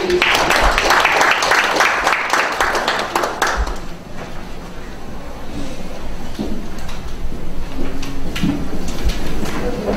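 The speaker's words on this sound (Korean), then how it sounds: "다시 한번 박수 보내드리겠습니다" Applause from an audience at a Korean legislative public hearing on a basic human rights law: dense, steady clapping for the first four seconds, then fading into quieter room noise with scattered small sounds.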